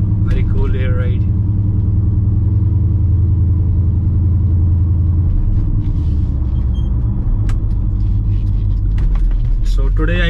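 Constant low road rumble and engine drone inside a custom bagged Chevy C10 square body truck with air ride cruising along, loud and steady, with someone talking over it.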